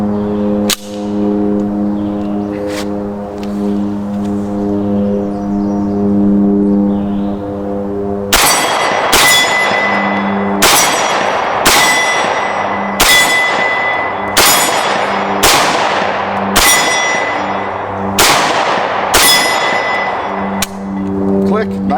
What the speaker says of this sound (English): Well, we went out and shot the AB-10.